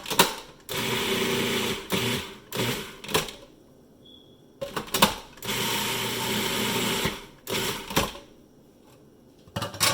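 Electric food chopper mincing onion, motor whirring in several loud bursts of a second or two each, separated by short pauses while the sides are scraped down.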